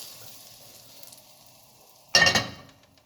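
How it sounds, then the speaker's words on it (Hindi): Hot mustard oil for a tadka is poured over a mixed vegetable pickle and bursts into a sharp, loud sizzle that fades over the next second, after a quiet stretch with faint clinks. "हमने तड़का लगा दिया,"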